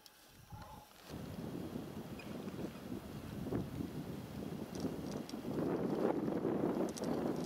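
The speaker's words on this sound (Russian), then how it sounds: "Сейчас ветер на нее дует." Outdoor wind on a field where a fox is hunting mice blows steadily, rumbling into the microphone and growing louder and gustier toward the end, with no voices over it.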